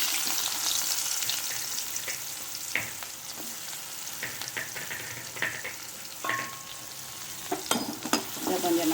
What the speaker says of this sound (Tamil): இப்போது இந்த ஆயிலே இந்த ஆனியனை போட்டுக்குவோம்.